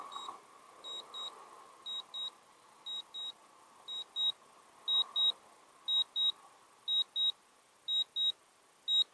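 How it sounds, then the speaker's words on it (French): A DJI drone gives repeated paired electronic beeps during return-to-home, short high-pitched tones in a steady double-beep rhythm that grows slightly louder, over faint background hum. "si vous appuyez 2 secondes et vous entendez les bruits bip bip, ça veut dire qu'il fait son RTH"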